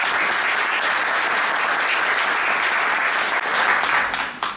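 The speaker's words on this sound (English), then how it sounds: "please give a round of applause to Program Manager Tamar Craves." Sustained, dense applause from an in-person audience at a state poetry recitation final competition, loud and steady throughout before tapering off at the very end.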